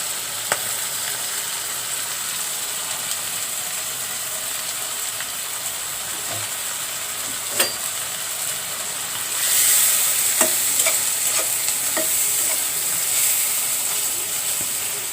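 Onion and green chili fry in a pan in a steady, close sizzle with occasional scrapes from a spatula, and the hiss grows louder and brighter partway through as the frying picks up.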